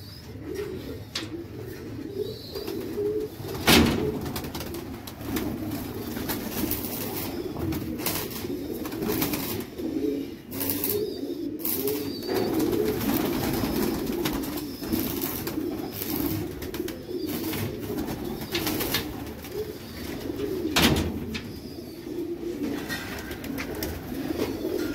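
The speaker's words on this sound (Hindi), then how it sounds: "बड़ा मेरा ये लेवल का टैडी कबूतर है" Teddy pigeons coo repeatedly from a loft, a steady murmur of low throaty calls from several birds close by, with occasional sharper clicks and rustles mixed in.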